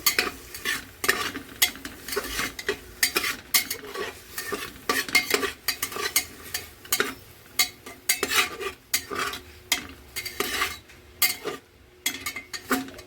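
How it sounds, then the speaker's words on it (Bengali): Bottle gourd greens stir-fried with salt and turmeric in a pan: rhythmic, repeated spatula scrapes and clinks against the metal over a light sizzle, close and steady, with no voices. "এটা হালকা একটু ভেজে নেব, নুন হলুদ দিয়ে, সামান্য নুন হলুদ ভালো করে মিশিয়ে নেব"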